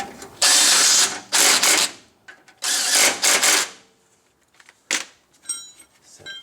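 Bursts of a power drill whirring as screws are tightened down on a Nissan Frontier during neutral safety switch work, several loud short runs separated by pauses with small clicks and handling noises.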